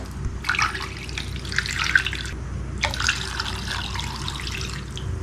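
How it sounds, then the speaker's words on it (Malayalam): Water for melting jaggery is poured from a glass in two steady splashing bursts with a short pause between them, close and fairly loud, during Kerala unniyappam preparation. "ഇതിലേക്ക് 2 ഗ്ലാസ് വെള്ളം ഒഴിച്ചു കൊടുക്കുന്നുണ്ട്"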